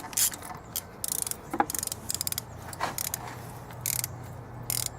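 A socket ratchet tightens a bolt on an Acura TL, giving a string of quick metallic clicks and clanks up close, irregular and fairly faint, with short bursts of rattling between strokes.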